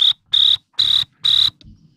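A man imitates a cricket with his voice, giving four shrill, evenly spaced chirps close up in a quiet room, the last one cut short.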